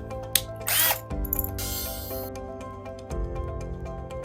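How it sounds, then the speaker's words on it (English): A power drill bores a pilot hole for a handrail lag screw, whining in short bursts near the mic with a steady motor hum that shifts pitch as the bit bites and releases, no voices. "use one of the smaller drill bits that we provide and make a pilot hole"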